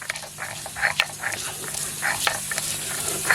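Cauliflower florets fry in a pan with a soft, continuous sizzle, broken by intermittent spatula scrapes and small crackles at moderate distance.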